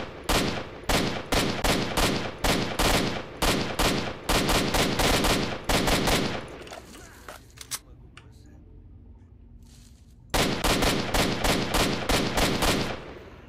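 Gunfire from a gun in S.T.A.L.K.E.R.: Shadow of Chernobyl, loud rapid bursts of evenly spaced shots, a pause with quieter ambience, then another burst of repeated shots, close and dominant.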